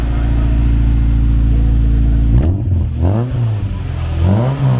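Honda Civic EG engine idling loudly through a Spoon exhaust with the silencer fitted, then blipped into several rising and falling revs, close up and heavy.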